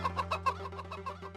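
A rooster clucks in a quick run of about ten short, rhythmic calls, close and moderately loud over a steady low hum, with no speech.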